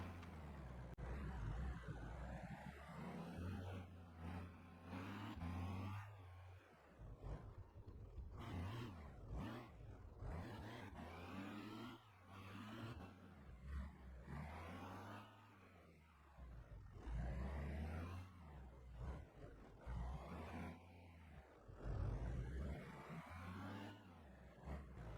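A car drives on and on in Car Mechanic Simulator, its engine a continuous low roar that swells and eases with gear changes and throttle, heard alone with no talking.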